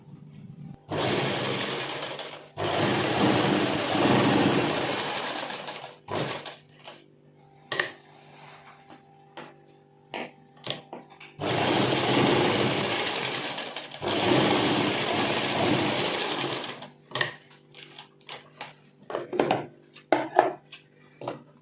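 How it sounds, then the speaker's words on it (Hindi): Sewing machine stitching a pocket onto a salwar, two long steady whirring runs of several seconds each, close and clear, separated by clicks, taps and handling of fabric. "अब इधर से भी इसी तरह से हमें सिलाई लगानी है।"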